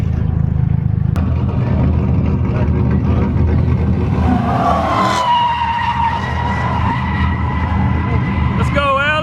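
Cars drifting figure 8s at a car meet make loud, continuous engine revving with long tire squeals and skidding. Voices are audible in the background.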